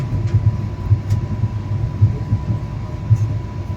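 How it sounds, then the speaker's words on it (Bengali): The 13189 Sealdah–Balurghat Express rolls into Bandel station, heard from on board as a steady low rumble with regular heavy wheel thumps and a faint constant hum. "আমাদের ট্রেন এখন ঢুকছে ব্যান্ডেল স্টেশন"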